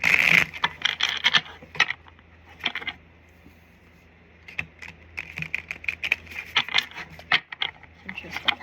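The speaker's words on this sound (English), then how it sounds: "give these a bit of a shuffle." Tarot cards are shuffled by hand close to the microphone in quick bursts of crisp riffling and tapping, with a quiet pause partway through before the shuffling resumes.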